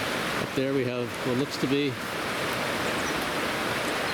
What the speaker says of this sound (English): A waterfall right there, very rocky.